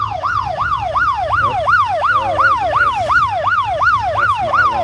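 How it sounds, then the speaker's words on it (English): Alarm on a boat towing a kayak on the Alligator River, a loud, steady siren-like tone sweeping up and down in a rapid repeating wail, about three cycles a second, over a low engine hum. "That's my alarm."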